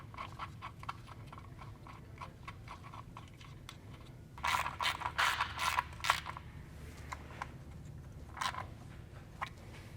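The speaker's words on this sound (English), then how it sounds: "Now that the oil is drained, we will reinstall our oil drain plug." A ratchet tightens the oil drain plug on a B48 Mini, its quick clicking pawl sounding in bursts, with a louder run of clicks midway, close and alone.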